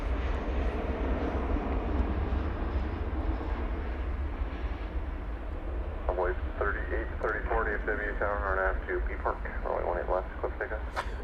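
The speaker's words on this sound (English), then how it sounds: "This American Airlines 737-800 is off to Los Angeles, LAX." An American Airlines Boeing 737-800 departs DFW with a steady broadband jet roar and low rumble, while a radio voice crackles over it in the second half.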